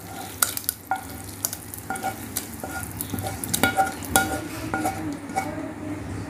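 Spice masala goes into a pan for South Indian sambar and is stirred, with repeated spoon scrapes and metallic clinks against the pan over a low, constant sizzle.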